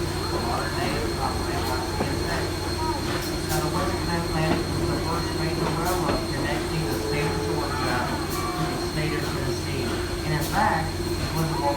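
A CSX freight train rolling past at a steady, continuous volume, wheels rumbling and screeching with rhythmic clatter, while people nearby talk and exclaim over it.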